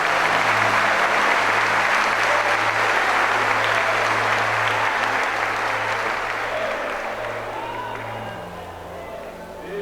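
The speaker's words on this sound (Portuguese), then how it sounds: "dando a Cristo uma linda salva de palmas" A church congregation gives loud, sustained applause lasting nearly ten seconds, with a low steady tone underneath, before it gradually softens.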